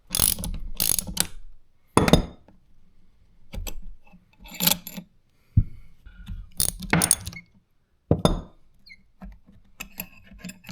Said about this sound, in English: We just need the wrench, and we need to be able to take those two bolts out